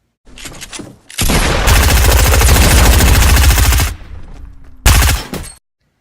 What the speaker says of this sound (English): He shot him once, and then that SMG just tore him to pieces.